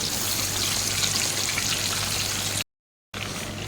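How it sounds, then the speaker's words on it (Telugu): Fish frying in hot oil, a steady dense crackling sizzle that fills the clip, broken by a brief silent gap before resuming. "ఈ చేపను ఫ్రై చేసుకున్నాము"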